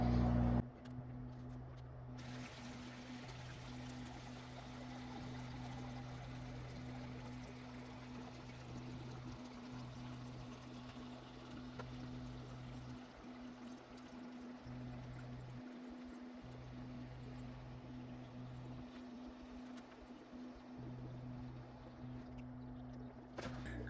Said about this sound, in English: Now we can fill up the tank.